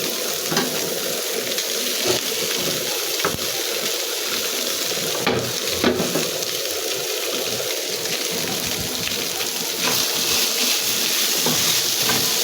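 Food fries in mustard oil in a pan, giving a loud, continuous crackling sizzle with scraping stirs throughout and no speech.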